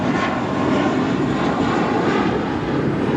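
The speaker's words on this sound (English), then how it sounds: "This departure is Spirit Airlines 3673 departing to Boston on an A320." Spirit Airlines Airbus A320 jet departing Los Angeles International Airport, a loud, steady roar of engines that holds without pause, dense broadband rumble and no voices.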